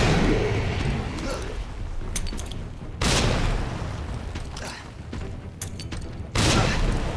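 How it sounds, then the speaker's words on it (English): Frag grenade blasts in the Resident Evil 2 Remake video game, two loud broadband booms standing out over dense ongoing game noise and a rumbling background, spaced a few seconds apart. "So let's immediately start throwing the frag grenades out."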